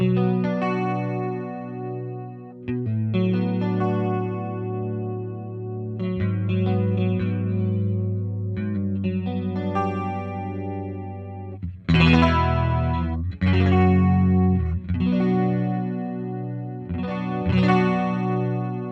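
Electric guitar run through a CE2 chorus model on a Fractal unit, sustained chords and picked notes with a shimmering, slightly distorted wobble, loud and steady, played alone.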